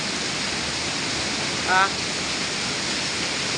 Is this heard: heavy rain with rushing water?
yes